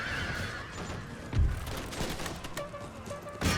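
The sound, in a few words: pistol fire in Empire 2 video game battle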